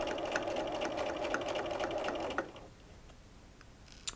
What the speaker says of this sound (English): I'm just going to top stitch that all the way around